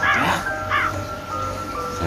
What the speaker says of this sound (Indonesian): Pertama itu suara burung gagak.